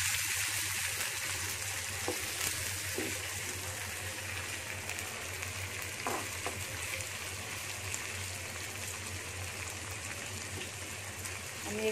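Teasel gourd with salt frying in a pan gives a continuous, even sizzle like light rain, steady and fairly quiet for the whole stretch, with only a few faint stirring knocks.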